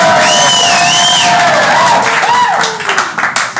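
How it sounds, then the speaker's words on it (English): A live improv comedy audience claps, stomps, hoots and hollers at once, a dense, loud roar of cheering with whoops rising over it. "Clap your hands, stomp your feet, hoot, holler, whatever you want to do."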